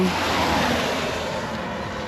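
Wind blowing on an exposed spot during an outing with a micro camper: steady, broadband buffeting that rumbles across the microphone for the whole stretch, loud and continuous, with no voice.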